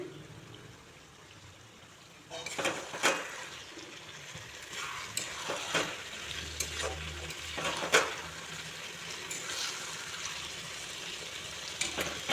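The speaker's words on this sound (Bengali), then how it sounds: "একদম লো করে খুব ভালো করে কষিয়ে নেব" Mushrooms sauté on low heat in a pan with a soft sizzle, and a spatula scrapes and stirs it now and then, close by and quietly, with no speech.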